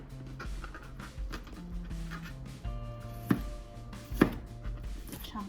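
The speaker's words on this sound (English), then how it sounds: "Chopping the onions, chopping the onions. You gotta chop them, and they're onions" A kitchen knife chops onions on a cutting board in a home kitchen, a run of light, uneven taps with a couple of sharper, louder strikes near the end, set against steady low background hum.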